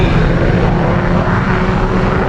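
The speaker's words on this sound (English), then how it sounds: "Today we are on the Super Carrier in an F-18, so it will be a little bit noisy." Loud, steady F-18 jet engine roar in a flight-simulator game aboard an aircraft carrier, with a dense broadband rush and a faint whine, continuous throughout.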